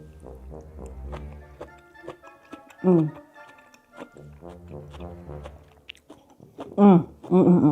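Crunchy chewing up close of cucumber salad with pomegranate, rapid crisp clicks and crackles from bites, with a couple of brief vocal sounds breaking in.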